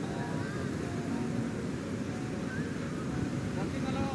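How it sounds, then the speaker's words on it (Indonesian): Big ocean waves surge and crash at Depok beach, a continuous loud roar of surf mixed with wind buffeting the microphone, while people talk faintly in the background. "ombaknya sangat gemerusuk besar sekali itu"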